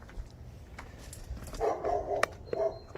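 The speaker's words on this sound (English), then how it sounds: "that is my wonderful neighbor's dog" A neighbor's dog gives a short burst of distant barks, two or three quick woofs followed by one more, faint against light background noise.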